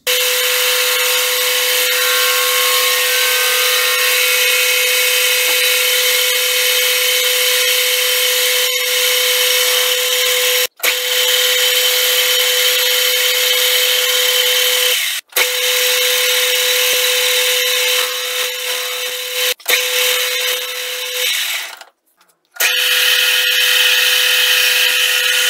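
Power tool grinding and smoothing a welded metal part for a lathe vise, a loud steady whine holding for about twenty-five seconds with a few brief cut-outs, no voices.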